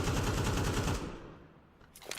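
A rapid spray of automatic gunfire in a Counter-Strike pro league match rattles loudly for about a second, then cuts off and fades into quiet game ambience.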